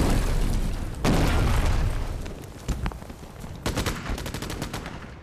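Rapid bursts of gunfire crackle loudly, with a heavy boom early on and scattered sharp shots continuing to the end.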